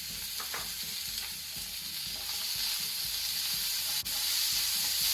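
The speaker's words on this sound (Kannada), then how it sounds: "ಸ್ಲೋ ಫ್ಲೇಮಲ್ಲಿ ಇದನ್ನು ಸ್ವಲ್ಪ ಫ್ರೈ ಮಾಡ್ಕೊಳ್ಳಿ" Onion, tomato and green chili fry on a slow flame in a continuous, even sizzle with faint stirring scrapes, close and steady, with no voices.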